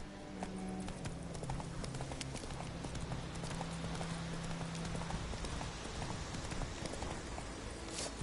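Hooves of a horse galloping in the video game The Witcher 3, a quick steady clip-clop rhythm running continuously at moderate volume against a soft ambient backdrop.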